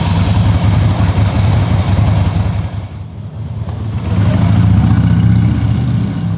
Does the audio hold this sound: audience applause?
no